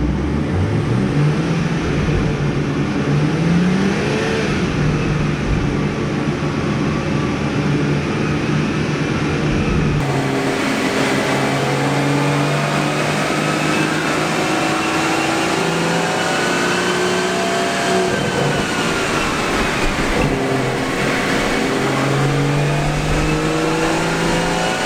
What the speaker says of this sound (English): now we got the Supra on the rollers